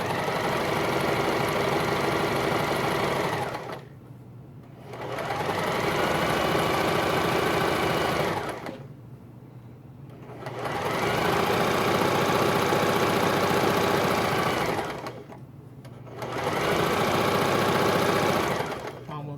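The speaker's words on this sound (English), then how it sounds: "I'm just going to do a zigzag stitch, catching both sides, catching that part and this part." Sewing machine running a zigzag stitch around the edge of a fabric hat, steady loud whirring in four long bursts separated by short pauses.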